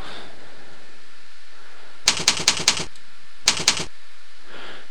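Typing a vanity code on a computer keyboard: a quick run of about five crisp clicking keystrokes, a brief pause, then two more taps, close and fairly loud against a quiet room.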